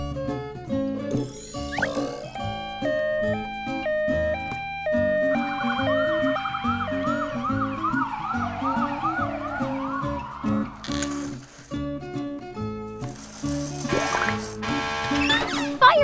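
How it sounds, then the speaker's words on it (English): An ambulance siren wails in rising and falling sweeps through the middle of the clip, layered over bright, cheerful background music with chimes. "Ambulance."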